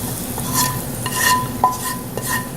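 Compound butter with rosemary and thyme being worked through a strainer to catch the herb bits, with soft scraping, stirring strokes and a few light clinks, close and steady with no talk.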